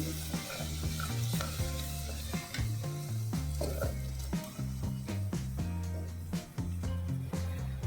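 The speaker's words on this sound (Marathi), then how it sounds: "एक दहा मिनिट आपल्याला असाच परतून घ्यायचा आहे मसाला" Ground masala sautés in hot oil in a pan for paneer bhaji, giving a steady low sizzle. A spoon stirs through it with soft scrapes and clinks, and a faint hum sits underneath. No one speaks.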